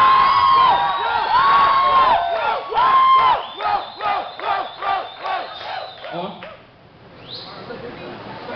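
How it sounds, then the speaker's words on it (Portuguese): A nightclub crowd at a carnival queen pageant cheers and whoops loudly, with high shouted cries at first, then rhythmic pulsing chants that fade toward the end. "eu gostaria de aplausos para a Sibeli."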